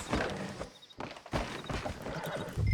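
A horse whinnies in Red Dead Redemption 2, a few loud snorting neighs mixed with hoof clops and rustling, heard close with no talk over it.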